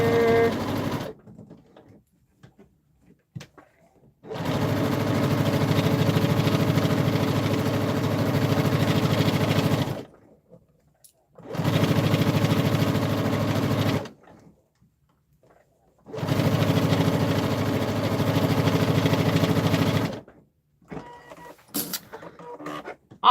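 Sewing machine stitching a quilt seam runs in three long bursts of steady, close whirring, separated by quiet pauses with faint handling noises; no one talks.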